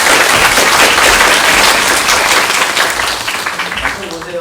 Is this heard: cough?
no